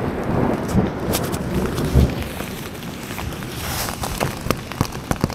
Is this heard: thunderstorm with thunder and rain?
yes